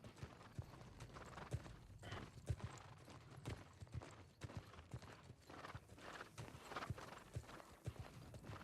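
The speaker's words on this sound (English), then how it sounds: "My horse is going a little wild here." Hooves of a horse in the video game El Dorado clip-clop in a faint, steady, irregular rhythm of sharp knocks, with no voices heard.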